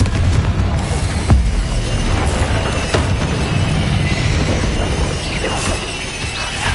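A Confringo fire spell explodes in the video game Hogwarts Legacy, producing a loud, sustained rumbling blast with shattering crackles and scattered impacts over continuous noisy battle ambience.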